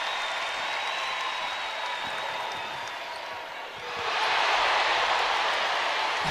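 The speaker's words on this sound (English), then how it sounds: "Alyssa Westlake gets a big applause from the crowd here in Colonial Life" A crowd applauds in the Colonial Life Arena during a Gamecock women's college basketball game against Tennessee, a broad wash of clapping that dips briefly and then swells louder again.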